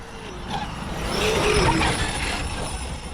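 Losi 5ive T large-scale RC car running on an 18S Gens Ace 5600mAh LiPo setup, its electric motor whining and rising steadily as the throttle opens, with a broad continuous roar of drivetrain and tyre noise close by.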